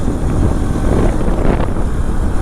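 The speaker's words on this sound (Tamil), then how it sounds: "ஆனால் காற்று பயங்கரமாக அடிக்குதுங்க." Strong wind blows hard during a motorbike trip in Kerala, a loud, constant roaring buffet across the microphone throughout.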